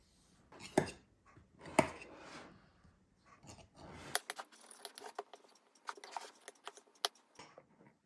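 Knife trimming the pastry edge of a chicken and mushroom pie, a few close, sharp cuts and taps followed by a run of quick crisp clicks and scrapes, faint and alone.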